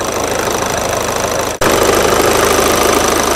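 Car engine idling steadily with the A/C compressor engaged while R134a refrigerant is being topped up, a loud continuous hum with a brief dip midway before resuming.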